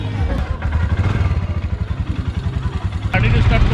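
A Bajaj Avenger motorcycle engine runs in a fast, even thumping pulse, loud and close, with a sharper rise near the end as it picks up.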